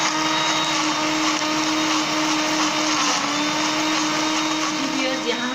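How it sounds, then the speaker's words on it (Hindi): Kitchen blender grinding soaked urad dal with a little water into a thick paste for bhalla: a loud, steady whirring motor roar that holds continuously throughout. "सारी दाल को हम ब्लेंडिंग जार में डाल लेंगे और इसको अच्छे से पीस कर"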